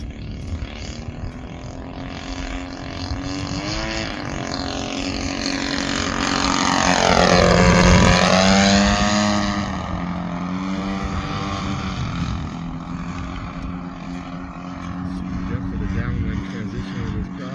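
A Hangar 9 20cc P-51 Mustang RC plane with flaps out flies slowly past, its steady petrol engine drone swelling and falling in pitch as it sweeps overhead, loud and continuous under outdoor wind noise.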